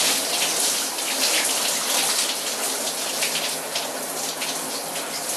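Shower water sprays and splashes steadily while someone washes their legs, a dense, even hiss of falling water close to the microphone with no pauses.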